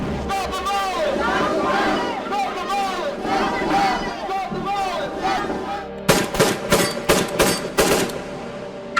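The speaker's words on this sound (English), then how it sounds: "The sound of gunshots and sirens" A rapid burst of several loud gunshots cracks out in quick succession after a stretch of busy, overlapping voices and street noise at a Brooklyn restaurant.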